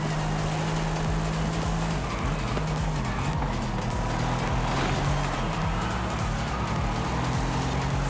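A Lynk & Co car in the racing video game Forza Horizon 5 drives in an online tour event, its engine droning loud and steady, with a brief hint of tire squeal and other cars nearby.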